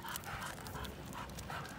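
A German Shepherd pants in quick, steady breaths on a warm walk, close and fairly quiet against outdoor background noise.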